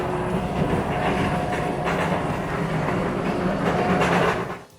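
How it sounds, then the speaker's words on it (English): Roller coaster lift hill on an Aero Development ride with its anti-rollback safety system: a loud, continuous mechanical clatter and rumble of the chain and train climbing, steady throughout, then cutting off sharply at the end. "Anti-rollbacks are behind a coaster enthusiast's favorite sound: the iconic clanking of an Aero Development's lift hill."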